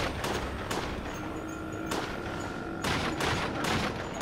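Gunfire from a shooter game, Resident Evil: The Darkside Chronicles, aimed at a crate: several loud, sharp bursts of shots spaced irregularly over steady game background sound.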